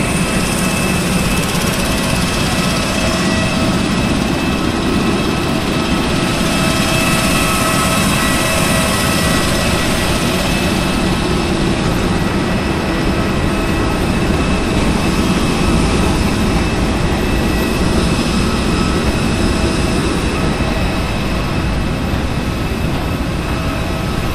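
A US Air Force jet aircraft landing at Halim Perdana Kusuma airport in Jakarta, a steady loud roar of engine noise and rushing air sustained throughout with no voices.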